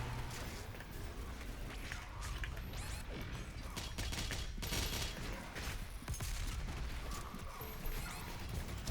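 The BFG 10,000 cannon firing in Doom Eternal, a dense, loud roar of crashing blasts and grinding mechanical rumble, sustained and distant-sounding, with faint metallic creaks.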